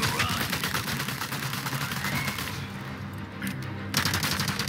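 Rapid automatic gunfire in Resident Evil 4 Remake during the fight against Jack Krauser: a loud, fast stream of shots that breaks off briefly and then resumes near the end, heard alone.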